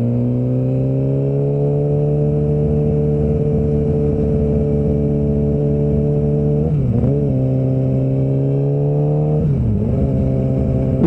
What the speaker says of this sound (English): This is my first time riding a 600 in a long time, and boy is it slow compared to my RSV4.